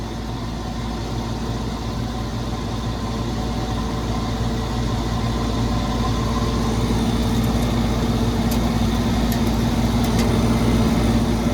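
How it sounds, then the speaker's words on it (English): Masterbilt cake freezer with a semi-hermetic compressor and its fan running, a steady, close mechanical hum with a constant low drone that holds unchanged throughout. "My fan's spinning the wrong direction."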